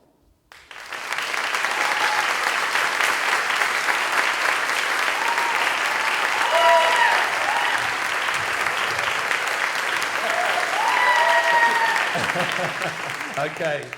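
Audience in a storytelling workshop room claps loudly and steadily for a team, a dense sustained wash of applause starting abruptly and holding for over ten seconds, with faint voices and whoops mixed in.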